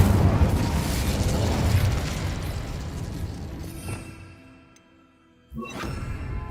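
A fiery Incendio spell blast in the video game Hogwarts Legacy opens with a loud whooshing, roaring burst of flame that fades over several seconds into near silence, followed by a second, sharper pop.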